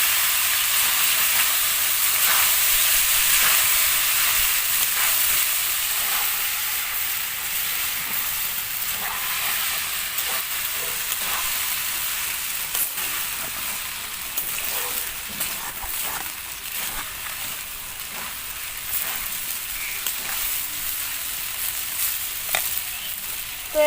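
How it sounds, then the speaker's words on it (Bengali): Boiled vermicelli stirred and frying in a pan for a vegetable chow mein, a steady close sizzle with scraping stir noises throughout, no voices. "ভালোভাবে নাড়াচাড়া করে দেব।"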